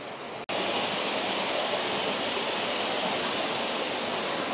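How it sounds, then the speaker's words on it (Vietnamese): A fast-flowing waterfall stream near Auckland rushes as a loud, constant broadband roar from close by after a brief cut at the start, with no voices. "Nước ở đây chảy khá là xiết."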